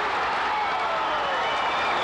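A boxing crowd in upstate New York cheers after a knockdown in the 1986 Mike Tyson versus William Hosea fight, a loud, continuous roar that swells evenly throughout.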